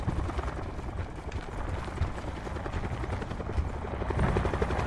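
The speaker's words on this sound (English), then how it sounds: "I was gonna stick that chopper and you're running it" A helicopter in a video game, likely a battle royale, gives a steady, rapid rotor thump that runs continuously at moderate loudness without talk.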